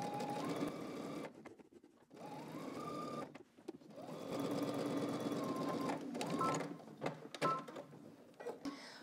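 A sewing machine stitches a pocket seam on a garment, running in steady whirring bursts with short stops between runs, close and clear with no talk.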